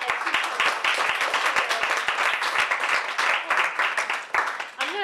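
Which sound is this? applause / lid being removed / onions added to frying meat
applause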